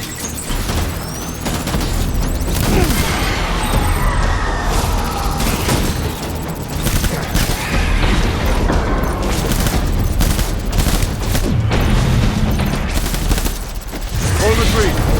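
Dense, continuous gunfire and explosions in Death Stranding combat, with rapid bursts and heavy booms layered over each other at high loudness for the whole stretch, and occasional shouted voices mixed in.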